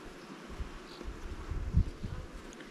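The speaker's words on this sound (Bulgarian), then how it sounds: "има пчелички и донасят и мед" Honey bees buzz over a frame of wax comb and honey lifted from a hive, a soft, steady low drone with a slightly louder swell near the end, mixed with faint outdoor wind.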